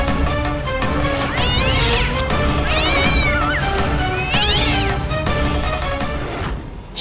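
A cat meows repeatedly, three drawn-out rising and falling cries close by over a steady dramatic music background.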